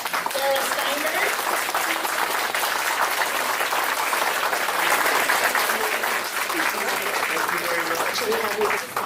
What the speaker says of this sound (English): let's give a big round of applause to our Mayor, Darrell Steinberg.